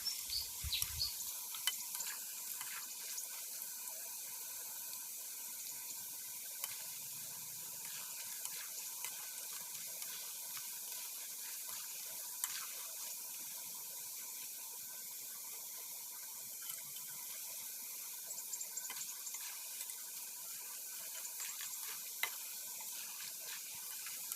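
Banana chips fry in hot oil in a pot while being stirred, giving a steady, dense sizzling hiss that runs continuously and close, with occasional soft scraping from the stirring and no talk.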